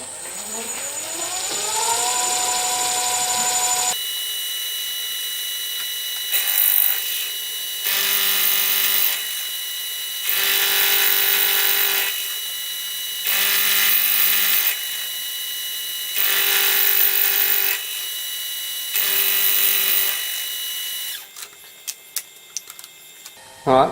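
A milling machine cuts a brass part for a Stuart Turner No. 8 mill engine. Steady whining passes with harmonic tones are repeated about six times, each separated by a quieter running hum, and end in a few sharp clicks.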